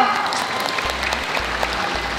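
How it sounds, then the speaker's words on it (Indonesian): Studio audience at an Indonesian TV comedy show applauds for a guest, steady dense clapping throughout with a low hum underneath. "Tepuk tangan dong buat Marcel."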